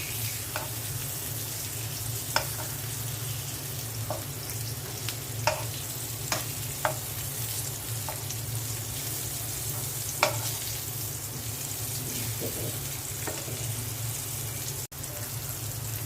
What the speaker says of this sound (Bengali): মিষ্টি কুমড়াটা উল্টে দিচ্ছি